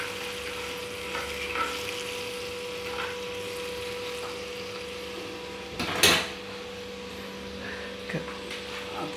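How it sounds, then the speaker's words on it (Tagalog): Cassava ball mixture stirred in a pan over heat, a steady soft sizzle and scraping with light clinks, one louder knock of the utensil partway through, no talking. "Haluin natin ang haluin."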